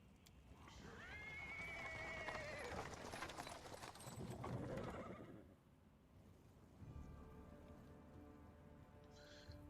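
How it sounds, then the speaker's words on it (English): In the video game Pathfinder: WOTR, a horse-drawn cart rolls on paved stones, with a horse whinnying, hooves clopping and a soft patter of rain underneath, moderately close and fairly quiet, with no talk. "He is interrupted by the sound of wheels rolling on the paved stones"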